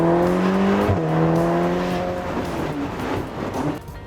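A Ferrari Portofino driving in a racing video game, its engine tone steady and then dropping as it shifts, a loud continuous motor drone running throughout with a brief change in pitch near the start.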